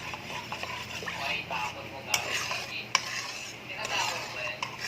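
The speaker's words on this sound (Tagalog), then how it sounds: "una natin nalagay ang cornstarch. So i-mix lang natin siya ng maigi." Utensil clinks against a bowl as cornstarch is stirred into a Filipino maja corn jelly mixture, a soft scraping rhythm with a couple of sharp taps, under faint background noise.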